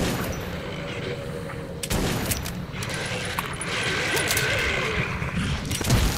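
Gunfire bursts from the Metro 2033 video game, with sharp broadband cracks near 2 s and again around 6 s over steady game ambience and rumble, a player voice talking alongside.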